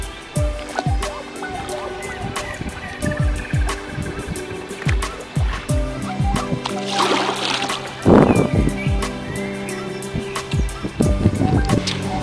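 Paddling a small boat on a river, with repeated soft splashes and knocks of strokes against water, close by, alongside someone talking.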